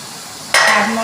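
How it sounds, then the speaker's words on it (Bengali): Mutton, about a kilo, drops into hot oil in a wok and bursts into a loud, steady sizzle, with a faint clink of utensil partway through. "মাংসটা আমি এই তেলের মধ্যে দিয়ে দেবো।"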